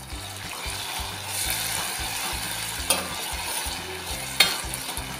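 Chopped onion and tomato with a pinch of salt fry steadily in a pan over medium heat, a continuous close sizzle with periodic stirring scrapes and a couple of sharp spoon knocks against the pan.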